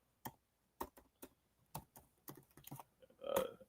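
Someone types on a computer keyboard, scattered individual keystrokes at first and then a quicker cluster of taps, close and fairly quiet.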